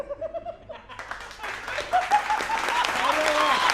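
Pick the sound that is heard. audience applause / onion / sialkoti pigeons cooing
audience applause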